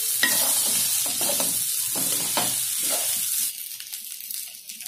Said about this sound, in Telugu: ఇప్పుడు ఇవన్నీ ఒకసారి వేసుకుని ఫ్రై చేసుకుందాం.